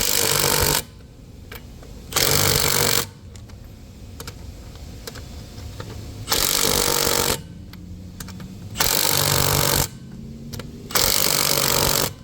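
Front strut mount bolts on a Lincoln Corsair are tightened with a power tool, which runs in loud, steady bursts about a second long with brief pauses between them, close up and without speech.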